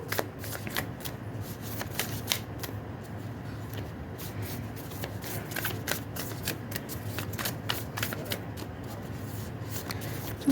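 Tarot cards being shuffled continuously for about ten seconds, a close, steady ruffle of rapid riffles and flicks with no talking.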